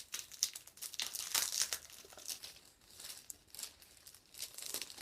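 Plastic packaging on a bought item is torn open and unwrapped, giving soft, close crinkling and tearing in irregular bursts with no talking.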